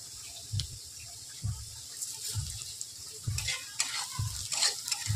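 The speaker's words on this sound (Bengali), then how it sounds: "পেঁয়াজটা আমি কিছুক্ষণের জন্য ভেজে নেব" Onions fry in oil for a pumpkin and Malabar spinach shukto, a low hiss punctuated by regular spatula scrapes about once a second, close and fairly quiet, no voices.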